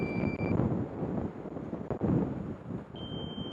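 Strong wind gusts buffet the microphone in a steady, rumbling roar during a drone high-wind test, with faint electronic tones appearing briefly at the start and again near the end.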